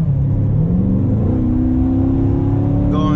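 A 2016 C7 Corvette Stingray engine pulls hard under throttle, a close, loud exhaust drone whose pitch climbs smoothly as revs rise.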